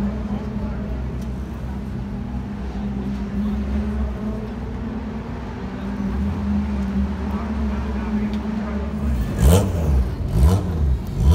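Saloon stock car engines drone steadily on a race track, a low sustained hum that swells as the cars rev and pass closer near the end.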